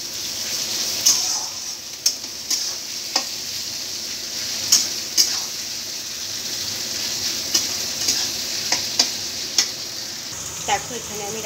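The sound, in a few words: onions frying in oil with chili and cumin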